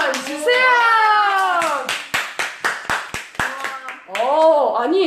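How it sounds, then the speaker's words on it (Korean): A short run of sharp, separate claps sounds between voices after a rap performance, near and fairly loud, with talking before and after. "박수 한번"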